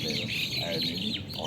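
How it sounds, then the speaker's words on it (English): Birds at a farm in Athi River chirp and tweet in quick overlapping calls over a busy outdoor background, with faint voices in the distance. "We see we got a lot of birds."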